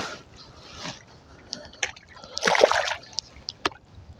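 A channel catfish released into the Red River at St Norbert Park makes a sudden splash and slosh of water at close range, among quieter rustles and drips.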